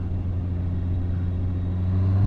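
A 2019 Honda CBR650R motorcycle engine pulls hard in 4th gear, a smooth, steady drone that climbs in pitch and loudness toward the end, heard close with no talk.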